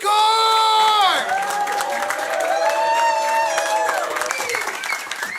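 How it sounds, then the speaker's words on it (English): A comedy club audience applauds and cheers as a stand-up comic takes the stage, with loud whoops and shouts riding over steady clapping that gradually thins out. "Give a big, warm round of applause for Dan McCord!"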